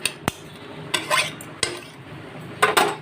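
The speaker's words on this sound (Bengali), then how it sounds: "এবার ভালো করে মাংসটার সঙ্গে মশলাটাকে কষিয়ে নেব।" A utensil scrapes and clinks against a pan while boiled meat is stirred with spice masala, giving four sharp knocks spaced unevenly, each followed by short scraping and a faint sizzle underneath.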